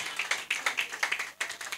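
Applause from a comedy show audience, a run of brisk clapping bursts at moderate volume that pulses unevenly, with one short dip before the clapping picks back up.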